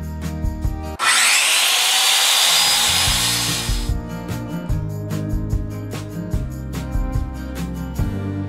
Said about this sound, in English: And then we'll get our circular saw and start cutting.